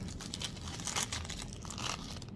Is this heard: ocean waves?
no